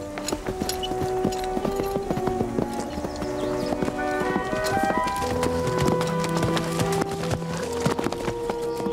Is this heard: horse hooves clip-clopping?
yes